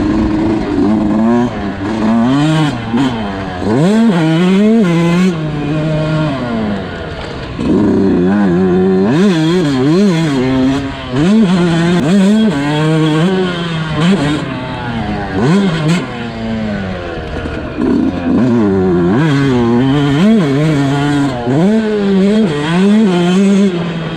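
A new Yamaha YZ125 two-stroke dirt bike with an FMF exhaust revs hard and very loud, its engine repeatedly climbing to a shrill scream and dropping back in quick, ragged blips for the whole stretch.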